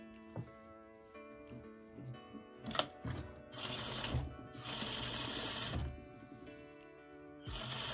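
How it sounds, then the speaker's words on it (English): Sewing machine running understitching along a garment seam, stitching in several sustained bursts of whirring with short pauses and light mechanical clicks between them, close and fairly loud. "Next thing I'm going to do is understitching"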